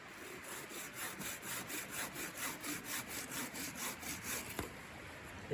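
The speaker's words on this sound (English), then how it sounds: "So we're gonna give this guy a go and saw up the rest of this firewood that I got here." Bushcraft bow saw cutting firewood, a steady back-and-forth rasp of about thirteen even strokes, close and fairly loud, with no talking.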